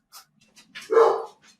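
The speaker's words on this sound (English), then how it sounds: "the dogs are barking" Several dogs bark indoors in a short burst: a couple of faint yips, then one loud, sustained bark that trails off, with no talking over it.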